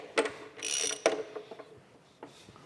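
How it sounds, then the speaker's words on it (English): Ratchet wrench tightening bolts on a steam stoker engine, with a few close clicking ratchet strokes and metallic mechanical rattles, quiet in between, no talking. "We need to go ahead and tighten those bolts up."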